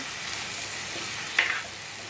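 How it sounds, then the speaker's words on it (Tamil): Garlic sautés in a pan while being stirred for a cabbage dish, a soft continuous sizzle with one brief sharper scrape partway through. "இது நல்லா வதக்கி விடுங்க"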